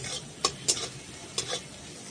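Green chillies added to onions frying in a pan for chira (poha) pulao, giving a low steady sizzle with a few sharp stirring scrapes and clinks over about two seconds, no voices.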